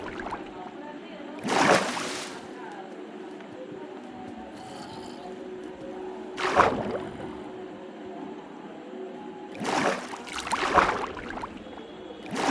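Water splashing and sloshing in the block-building game Minecraft, three short bursts of splashing spaced several seconds apart over a quiet steady background.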